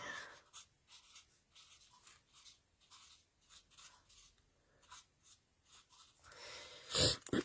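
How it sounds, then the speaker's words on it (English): Markers colouring a succulent-themed card, with soft rhythmic scratchy strokes repeating steadily at close range and a louder rustle at the end. "Speedy colouring."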